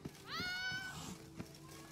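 A cat in The Witcher 3: Blood and Wine gives a single rising meow, fairly quiet, over soft background game ambience.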